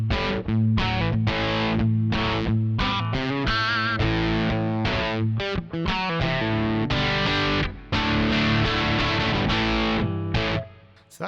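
An electric guitar runs through a Marshall Blues Breaker pedal set to clean boost, ringing out loud, lightly broken-up chords and single notes in a steady strummed phrase with short gaps, alone without voices.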